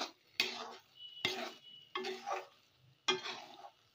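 A spoon stirs ghee through a sweet nadu mixture in a pan over low to medium flame, four distinct scraping strokes with a faint sizzle between them, close and alone.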